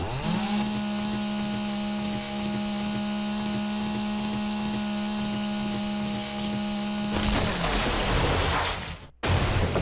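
A chainsaw cutting a tree in the video game 7 Days to Die drones steadily at a constant pitch for several seconds, then cuts off abruptly into brief noisy rustling and a sharp gap near the end.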